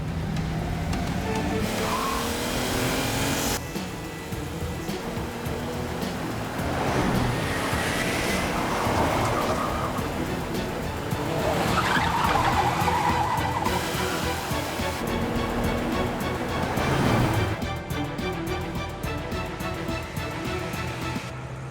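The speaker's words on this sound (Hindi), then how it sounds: "गाड़ी तेज चलाओ ताकि हम करीब से उनका पीछा कर सकें।" A car speeds through a chase with roaring engine surges, tire squeals and skidding, loud and close, with shifting rumbling bursts of motion throughout and no talk.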